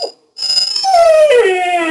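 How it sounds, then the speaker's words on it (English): A pet dog howls loudly and close by: a short yelp, a brief pause, then a long wavering howl that slides downward in pitch, alone without talk. "And that's my doggy."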